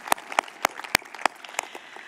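Scattered claps ring out at a church service honoring the Mile High Church Foundation, a handful of separate sharp hand claps spaced irregularly, moderately near and fairly light rather than a full ovation.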